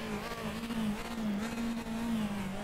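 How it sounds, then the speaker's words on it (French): An open-cockpit historic race car with a two-litre engine drones in the RaceRoom racing video game at Hockenheimring, a steady mid-pitched engine tone holding roughly constant with slight wavering over a few seconds. "On va déjà écouter le moteur."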